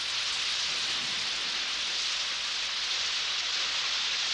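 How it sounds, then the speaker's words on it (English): Rain falls outdoors in a steady, even hiss with no breaks, fairly loud and close, with no voices over it. "Oh, it's raining."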